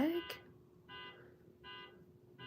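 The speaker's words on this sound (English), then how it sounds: "what alarm is going off?" An electronic alarm beeping outdoors, three short evenly spaced buzzing tones repeating at a moderate pace over a faint background hum, with a brief voice at the start.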